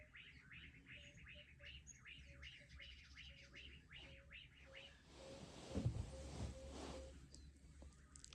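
Morning birdsong in The Gambia: repeated chirping phrases and a steady, higher tweeting call over soft background noise, fairly faint and distant, with a louder rustling stretch near the end.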